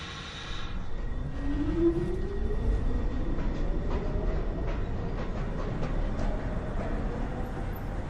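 A Manhattan-bound NYC subway 2 train at Beverly Road station rumbles loudly and steadily, with a rising motor whine and rhythmic wheel clatter throughout.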